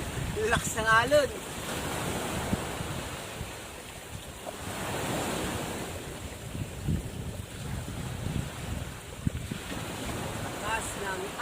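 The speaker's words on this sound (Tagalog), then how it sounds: "Lakas ng alon." Strong ocean waves surge and crash along a shore in repeated swells, with gusts of wind buffeting the microphone and a few brief voices breaking through.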